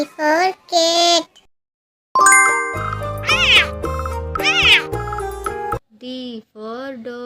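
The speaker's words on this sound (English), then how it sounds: "C for cat." A cat meows twice, then a jingly chime melody plays, followed by more meows, all loud and close.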